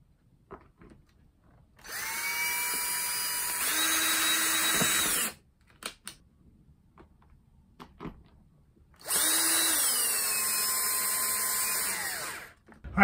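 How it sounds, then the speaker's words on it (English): Power drill driving pilot holes into a bag held with shipping tape, two sustained loud whirring bursts of a few seconds each separated by a quiet pause, with small handling clicks between. "held them in place so I could drill the pilot holes."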